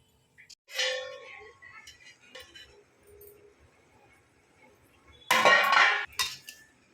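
Metal clanks as a pot lid is lifted and set down while cooking, two bursts of clattering with quieter scraping and handling noises in between.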